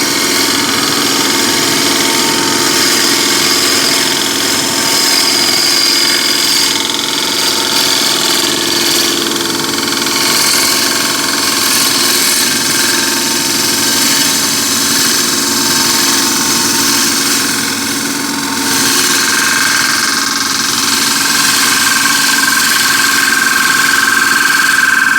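A wood lathe turns a workpiece while a ball gouge cuts a simple curve, giving a steady, close whirring drone with a continuous rough cutting hiss that holds at an even level throughout, with no talking.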